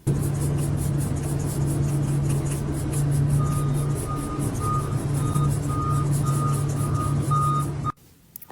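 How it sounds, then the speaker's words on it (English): A farm feed truck pulls in and backs up, its reversing alarm beeping steadily and loudly over a constant engine rumble before the sound cuts off abruptly near the end. "No, that's not the UPS guy pulling in your driveway. That's the feed truck on this farm."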